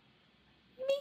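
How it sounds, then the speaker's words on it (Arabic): A single short cat meow comes suddenly at the very end after near silence, a brief tonal cry that is fairly clear. "مياو"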